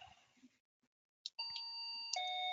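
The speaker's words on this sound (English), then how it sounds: "what I have here is a very inexpensive doorbell with a button, and I'm going to press record, ring the doorbell, and then stop." An inexpensive button-pressed doorbell rings with a bright ding-dong, two clear tonal strikes whose sustained ringing tones carry to the end, following a short quiet gap after some faint handling noise.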